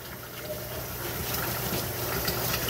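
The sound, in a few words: washing canning jars with running water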